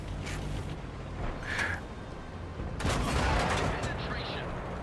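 In World of Tanks, several sharp cannon blasts and impacts from a Centurion tank battle crack out at irregular intervals over rumbling background noise.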